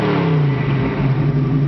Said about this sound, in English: It's got a really nice exhaust sounding exhaust. If you really get on it, it's aggressive